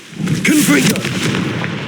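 Confringo spell explosion in the Hogwarts Legacy video game, a loud, booming blast with a short rumbling tail, following a brief spoken incantation.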